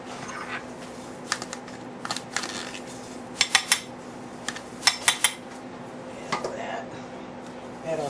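Avocado being mashed and mixed with sour cream for guacamole in a bowl: scattered utensil clinks and taps, with clusters of sharp knocks in the middle stretch over a low, steady kitchen hum.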